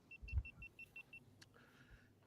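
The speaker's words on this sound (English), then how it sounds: "the patented GoPro beep" A GoPro camera gives a quick run of about seven short, bright beeps in an even rhythm, faint and close, over a low hum of a car interior.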